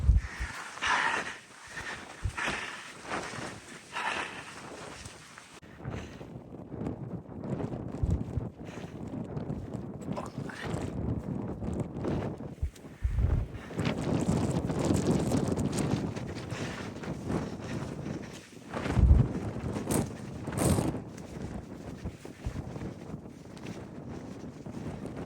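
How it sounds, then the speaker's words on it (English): Strong wind buffeting the microphone on an exposed hilltop on a hike around Anglezarke and Belmont, with loud roaring gusts that swell and ease throughout and some sharp low thumps, and no talk. "The wind's really strong up here"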